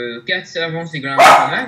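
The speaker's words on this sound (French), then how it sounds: "Oui, c'est le chien." A dog barks once, sharp and close, cutting across someone speaking French at the table.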